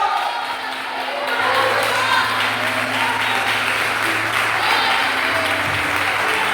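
A large church congregation applauds steadily and loudly throughout a sermon, with scattered cheers and faint voices mixed into the continuous clapping.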